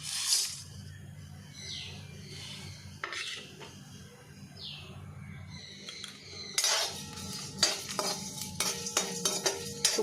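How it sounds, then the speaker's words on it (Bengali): Whole spices and dried chillies dry-roasting in a kadai, with metal utensil clinks and scrapes, sparse at first and then a busier run of rattling taps toward the end. "গ্যাসে একটা কড়া বসিয়ে নিয়েছি, আমি এবারে এগুলো ভেজে নেব।"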